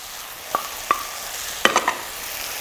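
Vegetables tossed with soy sauce in hot oil in a Chinese-restaurant wok, heard as a few sharp scraping stirs and clinks over a low, faint sizzle, close and without talk.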